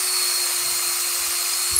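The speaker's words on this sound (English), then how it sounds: "Normally I'd prefer a pillar drill, but just for you guys to get it on camera, we're doing a single hole in the head." A drill bores a single hole into the head of a wood turning in a woodworking studio, a steady high-pitched whine held evenly throughout, ending with a small bump, no voices.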